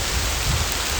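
Heavy rain pours onto a canal and a wild campsite, a dense, steady roar of drops hitting surfaces, loud and continuous with no voices.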